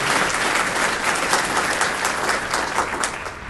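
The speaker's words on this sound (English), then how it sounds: "So let's offer a round of applause for our panelists." An audience at a lecture event claps for a panel of speakers, a dense, steady round of applause from a medium-sized crowd that fades slightly at the end.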